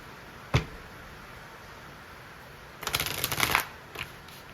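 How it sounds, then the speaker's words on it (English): A deck of tarot cards handled close by: a sharp single snap, a pause, then a short riffling shuffle burst and a soft final tap, all quiet against a still background. "I'll do one more shuffle and see what comes out."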